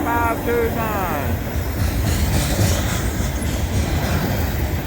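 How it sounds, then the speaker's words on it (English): An SCWX coal train rolls past near Abbeville, making a loud, continuous rumble and clatter of rail cars. A voice is briefly heard at the start. "It's the SCWX coal train."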